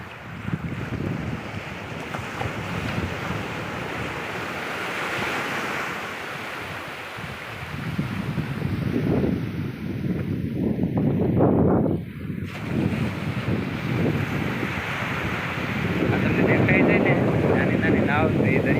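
Sea at Ghoghla where small fishing boats head out, heard as constant surf and strong wind buffeting the microphone, with a person talking over it.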